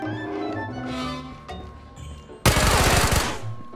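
A high fire rate gun in the game Ghosts of Tabor lets off a loud, rapid burst of automatic fire near the end, after a stretch of quieter in-game ambience.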